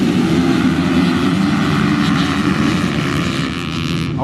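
Motocross bikes roar off the start gate together in a British veterans' championship race, a dense, loud, sustained engine drone that stays steady for a few seconds, slightly easing near the end.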